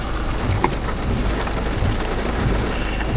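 Heavy rain pours steadily beside a storm chasers' car on a tornado chase, with a broad constant roar, rumbling thunder underneath and no talking.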